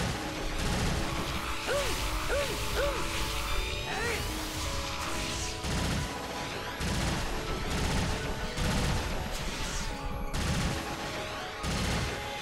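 Weapon fire in .hack//G.U. Last Recode battle: a busy stretch of rapid shots and metallic impacts over game music, steady and fairly loud, with no talking.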